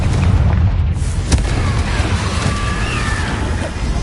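A Confringo blasting spell explodes in Hogwarts Legacy, a loud sustained boom with a rumbling low roar that fills the whole moment, followed by crackling debris.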